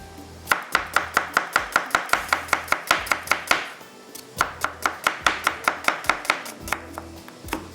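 Knife chopping fresh coriander, ginger and mint finely on a board, a fast steady run of crisp close taps that pauses briefly midway and then resumes.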